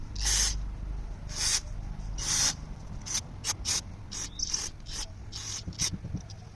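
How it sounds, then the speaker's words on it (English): Ratchet with a 13mm socket working a bolt off a lawn mower carburetor fuel bowl: a series of close, raspy clicking strokes, several long pulls followed by quicker short ones, with no talking. "I use a 13mm socket to remove this bolt that holds the fuel bowl."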